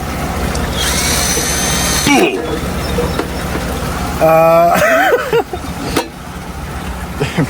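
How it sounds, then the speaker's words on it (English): A power drill bores holes into the top rim of a pool pond, whining in bursts with a squealing pitch rise near the middle, while a person talks over and between the runs. "what I'm going to do is drill some holes right here in the top, right here and right here"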